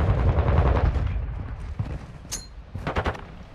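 Gunfire in the video game Call of Duty: Modern Warfare II, with dense rapid automatic bursts that start loud, then thinner scattered shots and a sharp metallic ping, and no talking.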